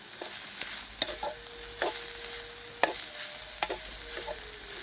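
Egg and drumstick (moringa pod) sizzling and frying in a pan, with repeated scraping and clinking as it is stirred, close and fairly loud, no talking.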